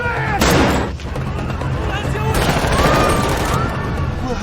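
A film taxi chase: a loud burst of gunfire crackles up close, then after a short lull a second volley of rapid shots erupts amid dense chaotic noise, with voices mixed in.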